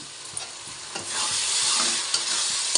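Spices with Kashmiri chili powder fry in oil for spicy mutton curry, a bright continuous sizzle that swells midway, punctuated by soft knocks of a stirring spoon.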